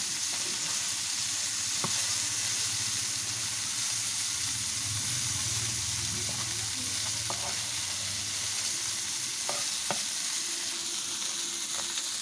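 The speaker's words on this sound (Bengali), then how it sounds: "বেশ কিছুক্ষণ ধরে বেশ কড়া করে মাছগুলো ভাজতে হবে" Fish frying in oil with a continuous soft sizzle and hiss, broken by a few sharp clinks and scrapes of a utensil against the pan.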